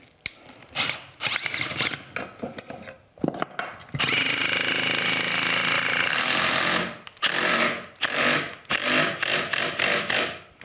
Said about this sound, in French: Et puis je vais pouvoir visser mes vis sans problème.